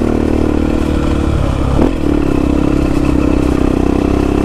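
A Honda Tornado motorcycle with a loud Belparts aftermarket exhaust runs close and steady, a thick droning roar with a brief dip and rise in revs midway.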